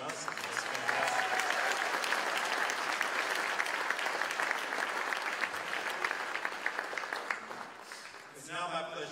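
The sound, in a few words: audience applause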